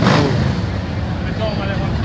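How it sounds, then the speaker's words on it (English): The Revolution 1250 engine of a new Harley-Davidson Sportster S rumbles low and steady, loud and close, while someone talks over it. "For those of y'all that don't know, that's the Revolution motor."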